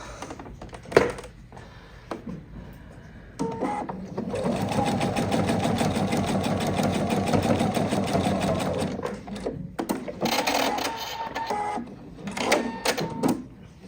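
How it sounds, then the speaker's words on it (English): A sewing machine stitches with a 2.5 mm twin needle in a steady, loud, rapid mechanical chatter lasting several seconds, bracketed by short clicks and quieter handling noise. "So when I go to sew"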